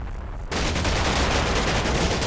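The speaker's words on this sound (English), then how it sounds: "A lot of fire starts pouring their way from this direction. Lots of explosions going off." After a brief quiet moment, a dense burst of rapid gunfire and grenade blasts from the war game Combat Mission: Black Sea erupts suddenly and continues loudly without pause.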